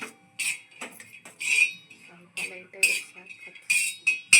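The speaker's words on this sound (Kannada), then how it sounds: "ಈ ಕಡೆ ಕೊಬ್ಬರಿ ಹಾಕೊಂಡು ನೀಟಾಗಿ ಹುರಿಬೇಕು." Grated coconut is roasted in a pan for chutney, stirred with a metal spoon that scrapes and clinks in short, uneven bursts against the pan, close and fairly crisp.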